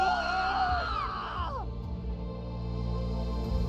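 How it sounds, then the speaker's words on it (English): Distant screams of people being swallowed by sludge in the video game Virche Evermore, several wailing, falling cries that fade out over a steady low rumble. "the screams of people being swallowed by the sludge of Hades resounded from afar"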